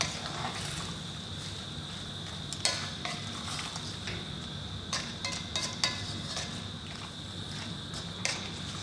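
Sri Lankan king prawn curry simmering on the heat, a soft continuous bubbling and sizzle with a few faint clinks and stirring scrapes from a pan close by.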